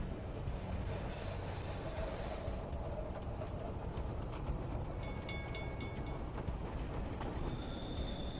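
A moving train in Splinter Cell: Double Agent, a steady loud rumble of wheels and rail noise with faint metallic squeals and rattles over it, continuous and close.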